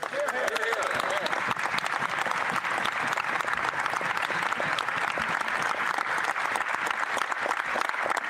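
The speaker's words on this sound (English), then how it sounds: "Those are clapping." In the Canadian Parliament during a 2025 federal budget speech, members give sustained, dense applause that fills the chamber and carries on steadily under faint voices.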